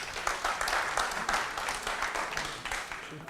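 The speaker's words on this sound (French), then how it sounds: "Est-ce qu'on peut les applaudir," An audience claps through a university agriculture competition quarterfinal in Guinea, a steady, dense wash of applause that stays fairly even in level for the whole stretch with no voices clearly standing out.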